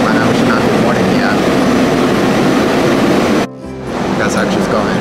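A commuter train to Philadelphia fills the air with a steady rumble and hiss, with a brief dropout and then the rolling noise resumes, a voice faintly present.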